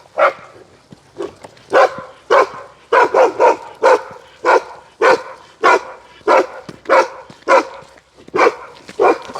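A chained village dog barks loud and close in a steady series of sharp single and doubled barks, about a dozen over several seconds with brief gaps between.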